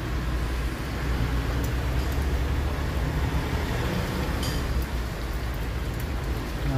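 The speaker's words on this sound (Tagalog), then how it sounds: "sobrang lakas ng ulan sa hangin." Heavy rain pours down hard amid gusting strong wind in a tropical storm, a dense, steady roar that stays loud and unbroken throughout, with no voices.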